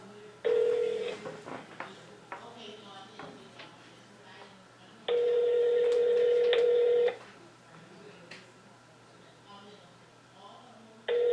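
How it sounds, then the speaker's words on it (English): Telephone touch-tone dialing while placing a call: a quick run of DTMF beeps followed by a long sustained tone and another brief tone at the end, with people talking quietly in between. "So we're going to call Diamond"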